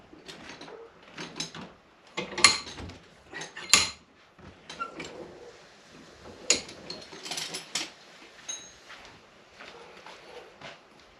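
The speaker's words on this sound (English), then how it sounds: "I'm gonna put this in the vise and I'll be back." Metal part clamped into a bench vise for work on 1320 Performance 65A inserts, giving a string of close clanks, scrapes and ratcheting clicks from handling and tightening, with no talk.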